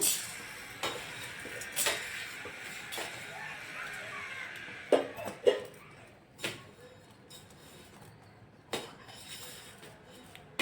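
Chana dal, cumin and spices dry-roasting in a pan, giving a soft dry rustle broken by spoon scrapes and occasional clinks against the metal at uneven intervals.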